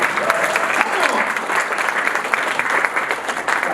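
An audience applauds at a morning meeting, a full, steady round of clapping with some crowd voices and speech mingled in, holding at an even level throughout.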